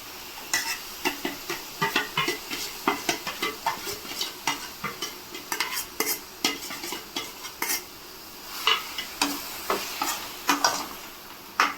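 Ground masala frying and being stirred in a pan, a rapid run of scraping, clinking strokes of a spoon against metal over a continuous sizzle, close and fairly loud with no voices.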